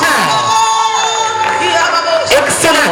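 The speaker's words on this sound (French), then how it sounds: "Des applaudissements, mes chers amis." Crowd at a July 13 outdoor celebration cheering and whooping, dense continuous roar with shouts rising near the end, fairly loud with a tonal background underneath.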